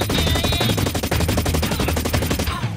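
Rapid SMG fire in Blacklight Retribution, a steady stream of evenly spaced, loud close-up shots rattling without pause for nearly three seconds before cutting off.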